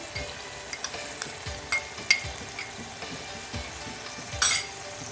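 Beef keema sizzling and frying in a pan as whisked yogurt is added: steady crackle and hiss, with occasional spoon stirs and clinks against the pan, and no voices.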